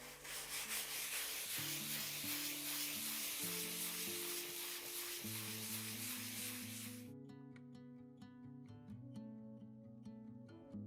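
A wooden artist's panel is gently hand-sanded with a wooden block, giving a steady, fairly loud rasping scrape for about seven seconds before it stops, with music playing throughout.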